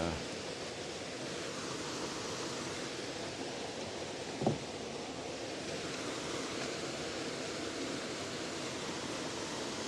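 Water falling at a creek on the Warm Springs Arm of Lake Sonoma: a steady, even rush of noise that holds throughout, with a single brief knock near the middle.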